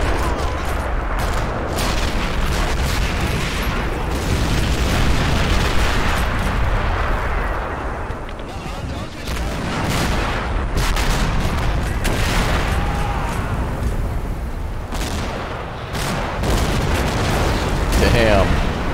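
Tank guns firing and shells exploding in Men of War: Assault Squad during an invasion of the USSR with Panzer IVs, heavy rumbling blasts and booms piling up continuously, with a voice talking over the battle.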